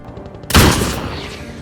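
A single loud sniper rifle gunshot cracks sharply and rolls into a long, fading rumble of echo.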